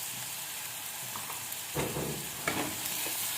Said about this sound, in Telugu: సన్నగా తరిగిన ఉల్లిగడ్డలు వేసి బ్రౌన్గా వచ్చేదాకా వేగించుకోవాలి